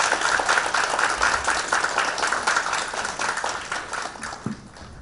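An audience at a youth education forum in Korea claps to welcome a speaker, a dense burst of applause that is loud at first and gradually fades over five seconds.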